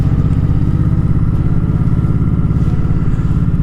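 Motorcycle ridden on a cold winter road, a close, loud, steady engine chug with a fast regular pulse and no talking.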